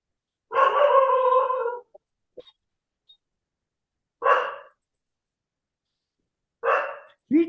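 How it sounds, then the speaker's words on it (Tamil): A dog kept at home, heard from an apartment setting, gives a loud bark burst lasting over a second, then two shorter barks after pauses, with quiet gaps between them. "வீட்டுல நாய் வளர்த்தா இதுதான் ப்ராப்ளம்."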